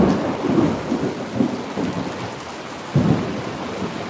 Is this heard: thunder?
yes